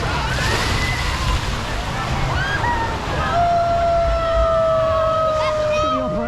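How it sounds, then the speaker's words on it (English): A log flume boat sloshes and splashes through water on a ride at the Gardaland theme park in Italy, a steady wash of water under voices and high whistling or shrieking tones. "10-minute queue for this log flume here"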